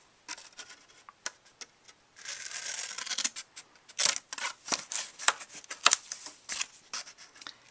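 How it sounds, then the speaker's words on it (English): Scissors snip through cardstock corners in a run of sharp, close cuts and rustles, irregular in rhythm, with no talking. "So I'm going to cut out all four corners."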